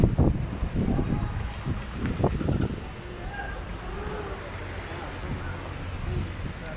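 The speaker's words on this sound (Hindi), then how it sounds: "हवा चल रही है, बहुत अच्छा मौसम है जी" Wind gusting outdoors near Naran on the way to Batta Kundi, a steady low rumble of wind buffeting the microphone throughout, heavier in the first half, with a voice talking over it early on.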